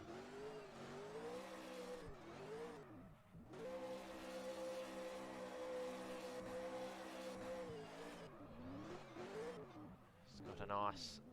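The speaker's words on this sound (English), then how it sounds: "Damo's doing a couple of burnouts, and very good to see." A Super 2 V8 race car at Oran Park performs burnouts, its engine roaring and revving in long sustained notes with falling and rising pitch, tyres squealing, under steady commentary.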